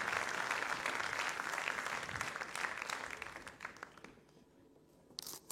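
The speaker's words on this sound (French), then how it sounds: "Sous vos applaudissements, bien entendu." Audience applause fills a sports awards ceremony in Guadeloupe, a dense, steady wash of many hands that gradually thins and fades to near quiet, with a few stray claps near the end.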